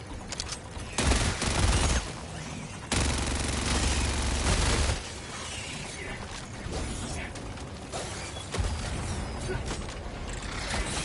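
Gallant submachine gun fire in Helldivers 2 comes as short bursts and sustained automatic strings with mechanical clatter, mixed over a busy battle soundscape of other shots and game effects.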